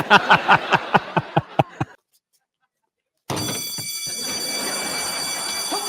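A loud, steady fire alarm bell rings continuously after a short silence, preceded by a run of rhythmic clucking bursts.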